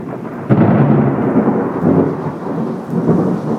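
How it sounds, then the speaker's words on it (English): Loud, close thunder rumbles through a thunderstorm with steady heavy rain and a sharp crack near the start, after pea-sized hail during a tornado warning; no one speaks. "I wish we could get some more of that lightning"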